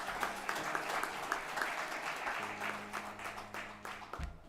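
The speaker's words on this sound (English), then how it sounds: "Please give a big round of applause." Audience applause fills an indoor hall at a silver jubilee anniversary event, a steady dense clapping from a sizeable crowd that holds evenly throughout before tapering slightly near the end.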